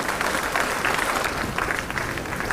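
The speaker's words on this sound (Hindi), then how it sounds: "तालियां लगातार हो, जोश से भरेंगी।" Continuous, dense clapping from a large audience at an official appointment-letter ceremony for state recruitment exam passers, loud and even throughout with no speech.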